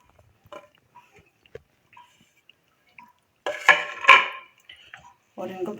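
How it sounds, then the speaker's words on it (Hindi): Chopped cabbage, onion and capsicum go into a pot in a home kitchen. Scattered faint clicks are followed by a few louder clattering knocks of utensil against metal, with quiet gaps between them. "ये मेरे पास जो पत्ता गोभी है हम ये शामिल कर देंगे, और ये प्याज भी शामिल करेंगे।"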